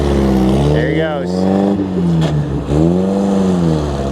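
A 1953 MG TD, a small British sports car, pulls away with a steady engine drone beneath someone talking over it throughout.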